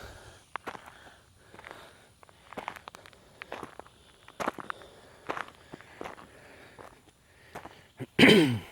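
Footsteps walking through Big Woods Cemetery, a steady series of soft crunching steps on grass and ground, fairly close and quiet, ending with a louder rustling burst.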